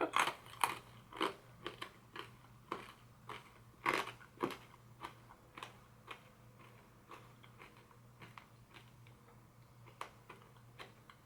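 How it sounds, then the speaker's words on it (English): Someone chews a GoOrganic blood orange hard candy, producing sharp, irregular crunches and clicks that start dense and loud and then thin into softer, steady bites, close to the mic and without speech. "But we'll chew it anyway."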